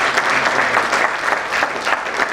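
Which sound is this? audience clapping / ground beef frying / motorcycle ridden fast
audience clapping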